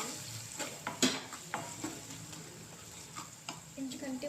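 Sliced onions fry in a pan for a bitter gourd dish, giving a faint, soft sizzle broken by scattered clinks and scrapes of stirring.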